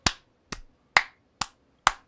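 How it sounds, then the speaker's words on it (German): Five sharp, separate hand claps spaced roughly half a second apart, crisp and close with quick decay and silence between them. "Applaus, Applaus für diese Leistung."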